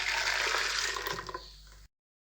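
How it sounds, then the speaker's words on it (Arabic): Water pours into a pressure cooker while making Moroccan harira soup, a close, steady splashing stream that tapers off and then stops abruptly. "ثم نقوم بإضافة الماء الكافي لطهيه"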